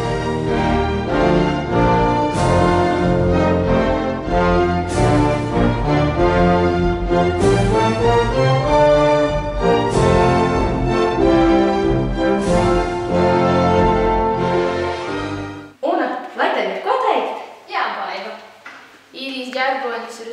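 Irish national anthem played as a full ensemble piece, loud and steady with dense sustained harmony, cutting off near the end into a different, sparser passage.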